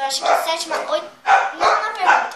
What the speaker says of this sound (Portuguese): Desculpa pelos cachorros latindo.